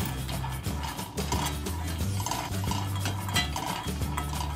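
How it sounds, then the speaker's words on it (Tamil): Almonds dry-roasting in a pan over medium flame, stirred so the nuts rattle and clatter against the metal in a busy, continuous stream, with a steady low hum underneath. "இதை பேனில் சேர்த்துட்டு மீடியம் ஃப்ளேமில் லைட்டாக கலர் சேஞ்ச் ஆகிற வரைக்கும் வறுத்தெடுத்துக்கலாம்."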